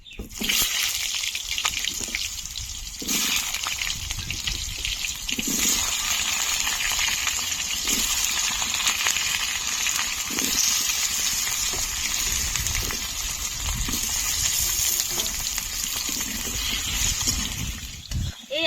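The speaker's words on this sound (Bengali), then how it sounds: "আলুগুলো একদম ছোট ছোট আলু তার জন্য হালকা আছে ভালো করে ভেজে নিতে হবে" Small parboiled potatoes fry in a pan with whole dried chillies and cumin, giving off a loud, steady hiss and sizzle that runs unbroken throughout, with faint clatters now and then.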